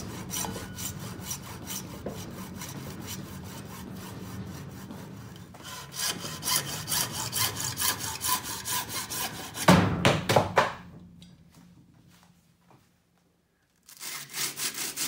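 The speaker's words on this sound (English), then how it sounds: "After marking the cutting edge, the sleeve was shortened to 41 mm with a hacksaw." Hacksaw cutting a sleeve to length, with steady close back-and-forth strokes in a long run, then a faster stretch, a pause into silence and a few more strokes at the end.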